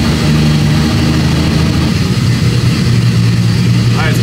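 A VW Golf engine is held at high revs with 50% crank duty during a clutch test. A loud, steady, close-up drone with a low humming tone continues without a break, and faint voices sit underneath.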